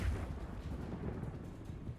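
Spell explosions from Bombarda and Confringo in the video game Hogwarts Legacy: a dense, continuous low rumble of blasts with a heavier burst at the start, loud and close, with no talk.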